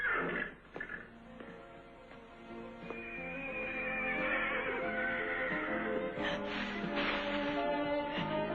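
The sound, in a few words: horses neighing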